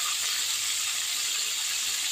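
Fish fries in a pan, giving a steady bright sizzle and hiss of hot oil that continues evenly and fairly close throughout, with no talk.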